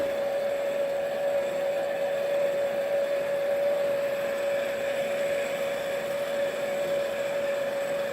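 A heat gun blows steadily on plastic parts, a loud continuous whining drone with a fixed motor tone and airy rush that holds unchanged throughout, with no talking.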